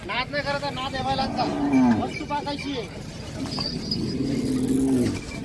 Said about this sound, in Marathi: गावरान बैल जोड्या आहे, एकदम मस्त आहे.